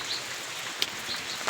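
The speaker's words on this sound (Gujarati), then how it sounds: "વરસાદ આવે છે ફૂલ" Rain falls steadily in a village, a soft, even hiss of drops with an occasional sharper patter, fairly faint and with no voices.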